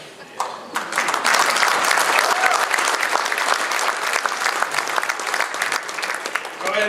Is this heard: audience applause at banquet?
yes